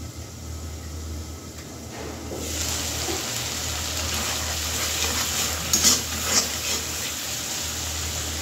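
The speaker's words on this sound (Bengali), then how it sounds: "একটা একটা করে ডিম ভেঙে নেব আর কড়াইতে দিয়ে দেব।" Eggs dropped into a hot pan of frying spices for egg bhuna bring a soft sizzle that swells after a couple of seconds into steady frying, with a few light stirring clicks near the end.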